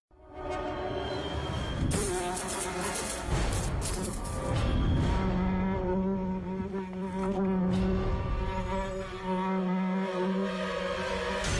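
A housefly buzzes steadily and close throughout, its drone wavering in pitch as it moves, with no talking.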